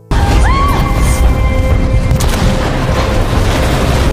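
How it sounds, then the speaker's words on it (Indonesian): A bomb blasts inside a refrigerator as it is opened, giving a loud, sustained roaring boom with crashing debris that fills the whole moment before cutting off sharply. "bom meledak"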